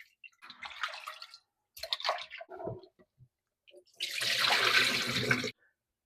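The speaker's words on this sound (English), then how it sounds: "Now I'm gonna go wash the chicken." Running water splashes and gurgles in a steady burst near the end while raw chicken is washed, after a few shorter intermittent splashes and handling sounds.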